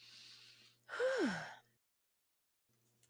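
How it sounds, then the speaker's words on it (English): A single deep breath drawn in during a calming self-compassion tapping exercise, a clear close audible inhale lasting under a second, followed by silence. "Take a deep breath."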